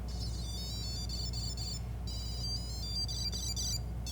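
A Tile Bluetooth tracking tag plays its chiming electronic melody, faint high bright notes in repeated phrases over a steady low hum, with a short break midway before the tune resumes.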